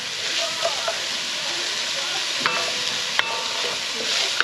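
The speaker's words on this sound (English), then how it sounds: "We'll just stir those up. You know, be sure to get all the scrapings off the bottom of the pan." Beef and onions sautéed in a pan are stirred and scraped off the bottom, a steady soft sizzle with occasional light clicks of the utensil against the pan.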